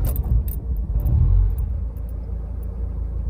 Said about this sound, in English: occasionally he splutters, so let's have a listen